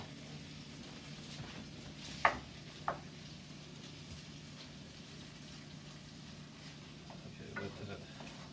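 A pat of butter melting and sizzling in a pan with peas and hominy, a faint steady hiss with a couple of soft utensil taps early on.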